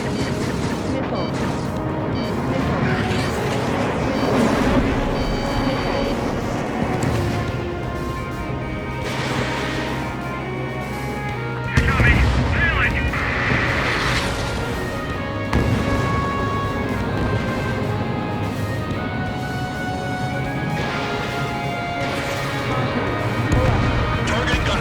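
Missile launches and cannon fire in the jet combat game Ace Combat 7, a dense, continuous barrage of blasts, crashes and booms layered over engine roar, with a sharp impact near the middle and radio voices talking throughout.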